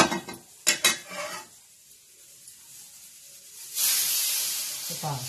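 A metal wok clanks and scrapes a few times up close on a stove, followed by a quiet pause and then a rising hiss like a gas burner or heating oil.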